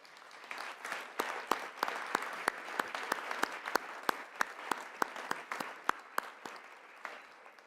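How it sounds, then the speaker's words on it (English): Audience applause for Blue Star military families at a political breakfast and plenary session, with steady clapping and sharp individual claps punctuating it throughout, moderately loud and without talk. "And let's also give these families a round of applause as well."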